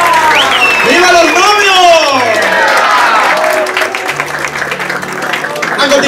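Wedding guests applaud at a golden anniversary celebration in Quingeo, Azuay, Ecuador, steady dense clapping mixed with cheers and a prominent voice calling out over the crowd throughout.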